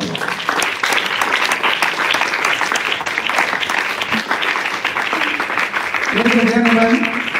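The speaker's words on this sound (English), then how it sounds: "Can you give him a better round of applause?" A lecture-hall audience at a Pan-African lecture series gives a sustained round of applause, dense and fairly loud throughout, with a few voices and some tonal sound rising near the end.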